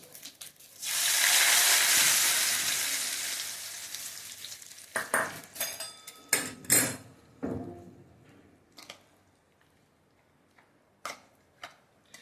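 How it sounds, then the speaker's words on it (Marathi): A loud burst of sizzling as hot oil tempering is poured over mashed pumpkin, fading gradually, followed by scattered crackles and pops that thin out into quiet. "आता ही फोडणी मी त्या भोपळ्यावर घालते."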